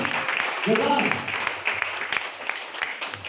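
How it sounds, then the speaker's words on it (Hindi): Crowd applause fills the clip, a dense steady patter of many hands clapping, with a voice briefly audible over it. "मैं चाहूंगा जबरदस्त ताली हम लोग के लिए हो जाए, जबरदस्त तालियां"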